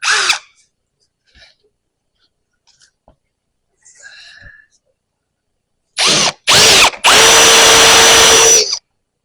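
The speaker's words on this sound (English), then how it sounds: "Starting to drill it out." A power drill bores out a walking floor cylinder piston pin. After near silence, two short loud bursts of drilling give way to a sustained, close whine lasting a couple of seconds.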